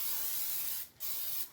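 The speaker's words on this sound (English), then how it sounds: "I'll spray Orsheen on it too" Oil Sheen hair spray from an aerosol can hisses in two close, loud bursts onto natural hair being bleached, a long spray broken by a brief pause and then a second shorter one.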